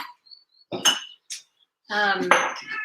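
A drinking glass being taken out and handled in a kitchen, with several sharp clinks and knocks against other dishes, close and fairly loud amid brief quiet gaps.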